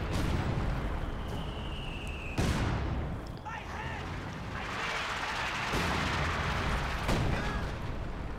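Stuka zu Fuss rocket artillery fire in a Company of Heroes 2 battle, with heavy booming launches and explosions at intervals, a whistling rocket streak, and rumbling battle noise under a talking voice.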